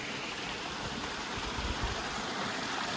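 A mountain stream on a hiking trail rushes steadily beneath a footbridge, a dense, unbroken hiss of flowing water close by with no voices.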